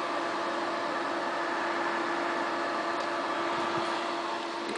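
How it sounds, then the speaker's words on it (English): Scythe Ultra Kaze computer cooling fans run steadily on a Corsair H50 cooler mod, a constant broadband whoosh with a faint tonal hum, alone and unchanging throughout. "that sound you hear is the Scythe Ultra K's"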